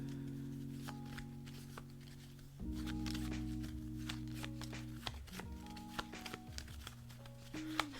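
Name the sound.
shuffling a discard pile of game cards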